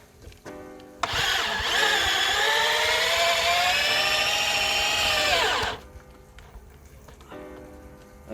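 A power drill fitted with a socket attachment whines loudly and steadily for several seconds while driving a screw during a backyard koi pond build, then cuts off abruptly.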